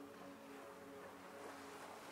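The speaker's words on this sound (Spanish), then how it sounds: "El inmenso y precioso mar que acaricia la playa con sutiles olas." Gentle sea waves lap softly at a beach at sunset, a steady low wash of surf heard alone and faint, with no voices.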